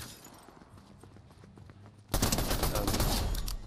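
Rapid bursts of gunfire in Fortnite during a drive-by shooting, starting quiet and then breaking into a loud, dense volley of repeated shots that runs through the second half.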